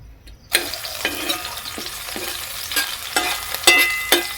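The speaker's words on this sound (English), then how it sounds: "I'm going to add in some cooking oil now." Cooking oil in a pan bursts into loud, close sizzling and spitting after a quiet moment, with irregular crackling pops and stirring sounds throughout.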